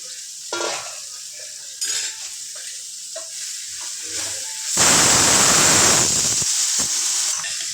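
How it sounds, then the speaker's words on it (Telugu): Chopped bottle gourd dropped into a hot pan of fried onions and dried shrimp, setting off a loud burst of broadband sizzling and hiss after a few light stirring clinks, then the frying settles slightly. "ఆనియన్స్ రొయ్యలు ఫ్రై అయిపోయాయి ఇప్పుడు ఇందులో క్లీన్ చేసి పెట్టుకున్న సొరకాయలు వేసుకుందాం"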